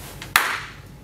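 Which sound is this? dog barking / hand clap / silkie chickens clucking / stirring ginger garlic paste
hand clap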